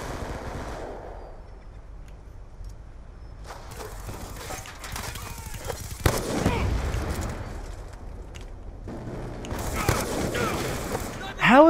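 Sharp gunfire bursts from a sniper rifle in the PC shooter Call of Duty: Black Ops 2, loudest around the middle and at the very end, mixed with other game noise and some talk.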